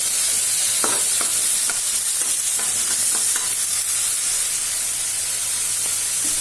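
Tomatoes fry in a hot pan, a steady close sizzle and hiss with occasional light stirring clicks throughout.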